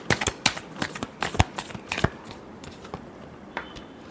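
Tarot cards being shuffled by hand in a quick series of sharp riffling snaps and flutters, close and crisp, with short pauses between bursts and a softer tail at the end.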